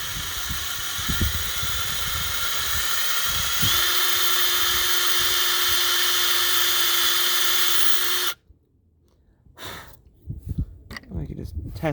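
A power drill bores a hole in an RV frame for fitting a smoked acrylic window, a loud continuous high whine that holds for about eight seconds and then stops abruptly, followed by quieter clatter and handling noises.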